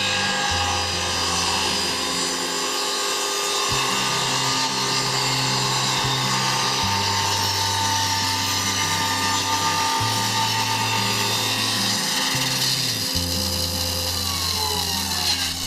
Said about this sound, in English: now I have to do some corrective sanding